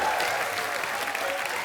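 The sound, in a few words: studio audience applause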